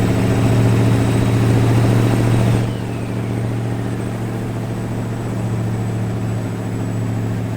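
A truck engine idles steadily in American Truck Simulator, its low diesel rumble loud and close, easing slightly lower about halfway through and holding a constant drone with no talk over it.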